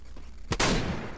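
A single loud shotgun blast from the video game Free Fire, a sharp crack followed by a long, noisy decay, with faint background game sounds before it.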